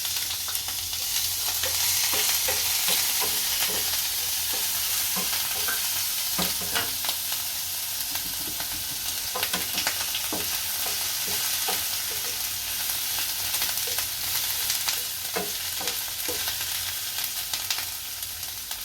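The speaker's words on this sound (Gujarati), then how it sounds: "આમાં આદુ લસણની પેસ્ટ નાખીશું।" Ginger-garlic paste fries in hot oil with a continuous, close sizzling hiss, with scattered stirring scrapes and pops throughout and no voices.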